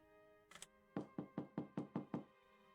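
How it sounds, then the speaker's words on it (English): A visual novel sound effect of knocking on a wooden door: a brief double tap, then six steady, evenly spaced knocks, clean and close with no talk. "I knock on the door and hear a loud crash, followed by quick footsteps."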